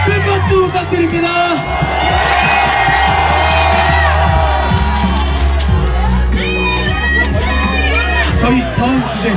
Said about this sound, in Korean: 교수님들 큰 박수 부탁드립니다.